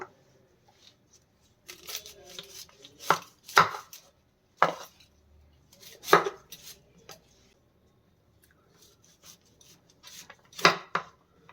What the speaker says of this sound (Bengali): ফুলকপিটা আমি কেটে নেব